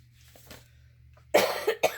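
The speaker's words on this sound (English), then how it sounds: "sorry about the cough." A person coughs close by in a dry room, two sharp bursts, the second shorter, after near-silence with a low steady hum underneath.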